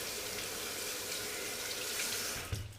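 Water runs steadily from a tap to wet sandpaper for wet-sanding the satin neck of an Epiphone Les Paul guitar, a constant close hiss that ends with a few splashes as the flow is interrupted.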